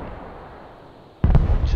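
Artillery fire in the war game Broken Arrow: after a quiet stretch of low battlefield rumble, a sudden heavy blast hits with a sharp crack and lingering boom, loud and close.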